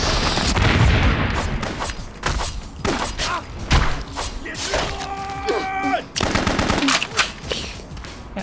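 Machine gun fire in BloodRayne: Terminal Cut at Castle Gaustadt, loud repeated bursts of shots with thuds and impacts in a chaotic game battle, with a brief tonal game sound partway through.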